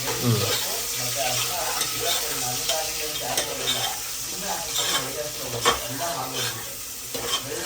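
Two small chopped onions frying in a pan for biryani, with a steady loud sizzle and scraping stirs throughout, alone with no talk.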